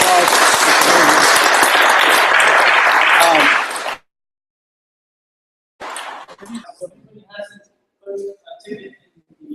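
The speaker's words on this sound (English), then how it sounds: "it's good to answer a round of applause" Applause from an audience at a tech meetup fills the room for about four seconds and then stops abruptly, followed after a pause by people talking.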